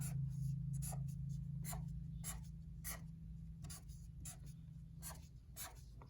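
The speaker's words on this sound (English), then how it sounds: "So I'm going to draw my box." A marker squeaks across a whiteboard drawing a box for a binomial multiplication problem, a series of short, regular strokes close by, over a steady low room hum.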